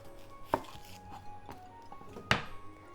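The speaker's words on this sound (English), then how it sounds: "Onion. Cut the top and the bottom off." A knife cuts the ends off an onion on a cutting board: two distinct, solid chops with a couple of lighter taps between them, close and otherwise quiet.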